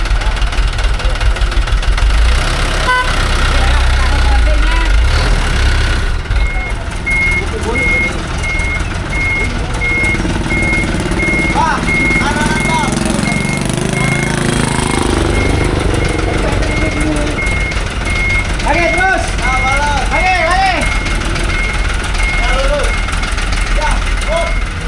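A truck hauling river mud from a Ciliwung river dredging site in Matraman idles and runs with a knocking diesel engine while steady reversing beeps repeat for much of the time, loud and close, with some voices nearby.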